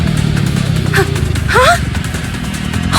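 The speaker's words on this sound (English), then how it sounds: "Is that the sound of a motorcycle?" A motorcycle engine draws closer in the game Goddess of Victory: Nikke, a steady low rumble rising and swelling under music with a brief rising whine midway.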